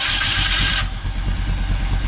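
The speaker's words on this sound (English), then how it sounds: "Rev the engine a little bit." A car engine turns over and catches, then settles into a steady, close idle; a bright broadband whir in the first part drops away after the start, leaving a low rumbling idle alone with no talk.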